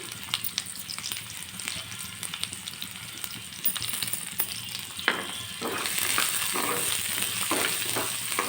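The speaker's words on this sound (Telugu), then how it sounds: "ఆనియన్స్ అయితే బ్రౌన్ కలర్ వచ్చేవరకు వేసుకోవాలి" Onions sizzle steadily in a hot pan as they fry toward brown, a dense broadband crackle with a few scrapes, growing louder and brighter toward the end.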